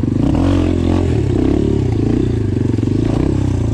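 Apollo Sano DMZ 250 dirt bike lifting into a wheelie in first gear, its engine droning loud and close with a steady throaty rev and some rattling clatter throughout.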